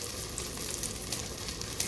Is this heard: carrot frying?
yes